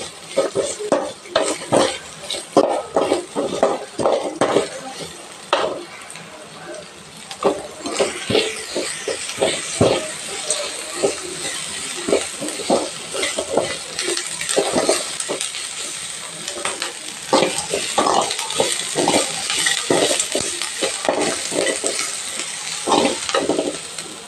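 Dried red chilies frying in hot oil in a pan, a steady sizzle broken by dense clatter and scraping of stirring throughout, close and fairly loud with no talk.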